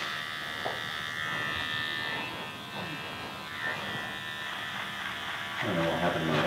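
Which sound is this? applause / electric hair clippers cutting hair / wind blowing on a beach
electric hair clippers cutting hair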